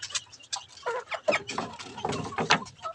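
Five-month-old chickens cluck and scratch close by while being given food, with short, irregular clucks and pecking sounds over a few seconds.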